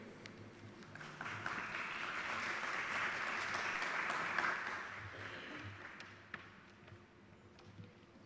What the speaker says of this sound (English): if we can give an applause to him